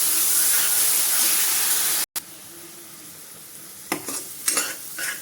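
Onion and spice paste for besan curry sizzles and fries loudly in a pan, with a steady hiss and a few scraping stirs near the end.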